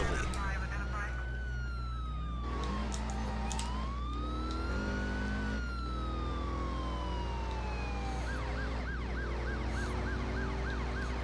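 A video game police siren from Driver: San Francisco, on a Corvette police car, wails and rises and falls continuously, then shifts to a rapid yelp, loud and close over a steady engine drone.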